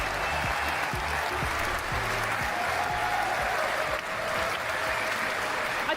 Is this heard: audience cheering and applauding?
yes